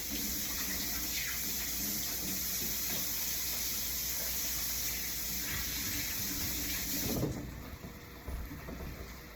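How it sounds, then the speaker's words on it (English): Tap water runs steadily into a sink during handwashing in a home kitchen, a constant close rush that cuts off near the end, leaving quieter handling sounds. "Let me wash my hands"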